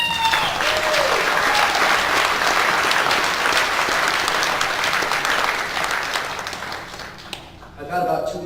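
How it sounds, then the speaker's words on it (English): Audience applause at an Air Base Chiefs recognition ceremony: dense, sustained clapping from a large crowd for several seconds, tapering off near the end as a voice comes in. "Yeah, round of applause."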